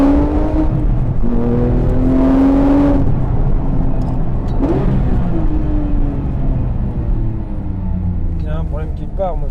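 Porsche 911 GT3 RS 3.8, 997.2 generation, its flat-six engine accelerating hard from inside the car, a loud rising engine tone that drops and climbs again through gear changes, with someone speaking over it.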